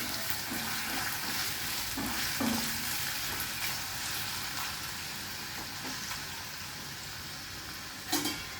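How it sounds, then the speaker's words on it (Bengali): Potatoes fry in a pan for semolina upma with a steady, moderate sizzle throughout, broken by a few soft stirring scrapes and a sharp clatter near the end, close up with no voices. "আলুটা একটু ভাজা হবে"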